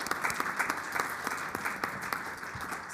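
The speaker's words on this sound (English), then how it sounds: "Let's give them an applause." Indoor audience at a town board meeting in Orangetown clapping steadily, a moderate ongoing applause of many hands with individual claps standing out, heard from a little distance.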